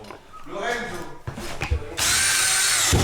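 A power drill drives screws into a fermacell floor panel. Someone talks first, then the drill whines loud and steady up close for about a second.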